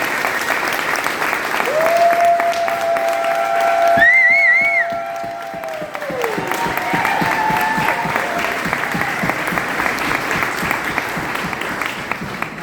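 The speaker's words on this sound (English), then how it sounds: "I would rather have your applause welcome him to the stage" Steady applause from an audience welcoming a speaker to the stage at an agriculture innovation park grand opening, sustained and fairly loud, with a few whistle-like tones rising over the clapping.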